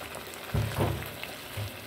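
Green peas dropped into spiced masala frying in a pan give brief sizzling and crackling bursts over a steady low hiss, close and fairly quiet.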